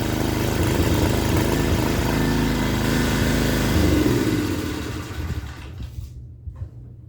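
A small gas pressure washer engine running loud and steady right after its first start, then winding down and cutting off near the end, leaving faint clicks and handling noises.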